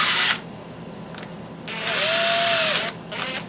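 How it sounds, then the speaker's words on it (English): Power drill spinning a valve during lapping on a Nissan engine, a loud whine in bursts that stops and restarts, with a rising pitch sweep near the middle. "you can't probably hear it because the drill is too loud"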